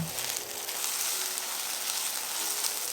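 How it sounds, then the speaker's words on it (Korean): King oyster mushrooms and rice cakes frying in oil in a pan, giving off a steady, even sizzle that stays constant throughout with no talking. "팬에 떡을 남기고 기름 두르고 새송이 버섯을 넣고 볶아주세요."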